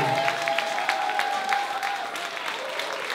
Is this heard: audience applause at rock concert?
yes